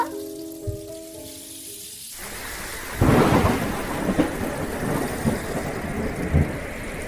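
A cartoon thunderstorm with rain: after a short stretch of soft background music, a sudden loud crack of thunder breaks in, then a steady heavy downpour hisses on with more low rumbles of thunder beneath it.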